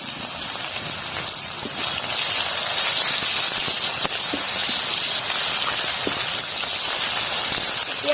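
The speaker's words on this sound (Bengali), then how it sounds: "এই তেলে দিয়ে দিচ্ছি কালো জিরে আর দিয়ে দিচ্ছি কাঁচা লঙ্কা, দিয়ে দিচ্ছি এবার পেঁয়াজ কুচিগুলো।" Chopped onions, nigella seeds and green chillies sizzle in hot oil, a loud, steady crackling hiss close up that runs the whole time with small pops.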